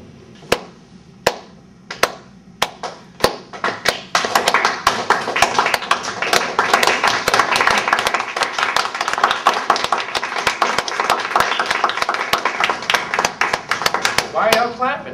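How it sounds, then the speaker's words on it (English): Audience clapping at a live comedy-style talk starts as a few sharp, scattered claps, then swells into full, dense applause from a crowd, with a voice heard during it. "Why are y'all clapping?"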